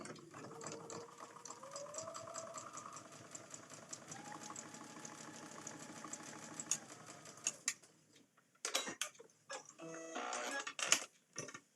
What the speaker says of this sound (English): I'm just going to sew down this line